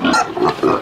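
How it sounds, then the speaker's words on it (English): A big sow of about 170 kilos grunts three times in quick succession, close and loud, each grunt a short nasal burst. "So, that is a big pig."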